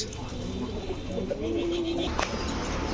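Pigeons at a market stall selling highflyer, racer and fancy breeds coo in low, rolling phrases close by, mixed with a steady crowd murmur and occasional voices.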